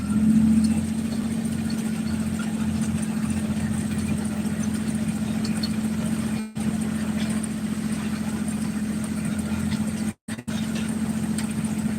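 A tractor engine idles at a low, even rumble for the whole stretch during raking and baling, broken only by a couple of brief dropouts.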